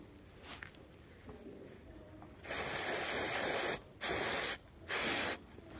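A newborn calf's navel gets several short bursts of antiseptic spray on a farm, quiet rustling first, then three loud hissing sprays separated by brief gaps.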